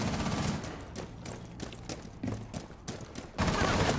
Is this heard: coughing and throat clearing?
no